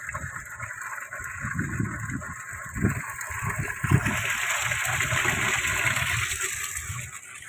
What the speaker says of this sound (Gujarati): આ પાઇપથી ત્યાં પાણી જાય.